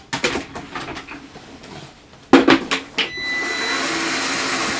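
An electronic die cutting machine whirs into motion after some handling knocks and taps, settling into a steady, moderately loud mechanical hum with a faint high whine for the last couple of seconds.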